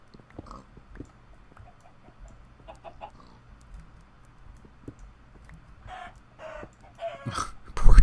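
A chicken in the Minecraft video game clucking in short, soft, scattered bursts over a low background hum, getting louder and busier toward the end.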